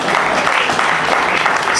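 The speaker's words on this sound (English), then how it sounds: "give a round of applause" An audience at a live show applauds in a steady burst of clapping that fills the whole short moment, fairly close and loud.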